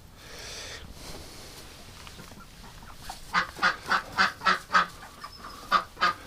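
Muscovy ducks and geese call near a nest, starting with a soft murmur and building into a rapid series of loud, close honks in quick succession.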